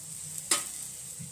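A cabbage paratha fries on an oiled griddle with a soft, steady sizzle, broken by one brief sharp hiss when oil hits the hot surface.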